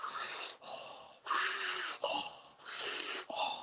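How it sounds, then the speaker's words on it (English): Forceful, rhythmic breathing in a guided breathwork session: three loud, breathy inhales or exhales, each lasting about half a second to a second, alternate with softer breaths in a steady cycle. "Keep breathing."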